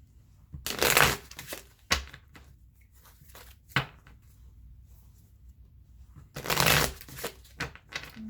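Wildwood Tarot cards being shuffled at a tarot reading: two loud riffling bursts about five seconds apart, with scattered softer card taps and slides between them, close up and without talk.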